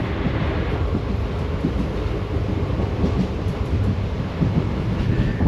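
Mysuru–Talaguppa Intercity Express train running along its route, a loud, steady rumble of wheels and carriages heard from on board, continuous and unbroken with no voices.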